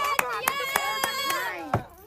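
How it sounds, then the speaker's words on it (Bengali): Several people clap together in quick bursts, about six sharp claps over two seconds, while children and adults talk and call out over them in a lively indoor game. "জোরদার তালিয়া মৌদির জন্য"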